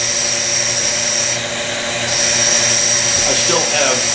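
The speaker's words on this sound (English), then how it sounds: "This pump is so efficient in terms of CFM volume" A vacuum pump for lathe vacuum chucking runs steadily, a loud continuous motor whine and hum filling the room, with a valve fully open and a faint shift in tone partway through.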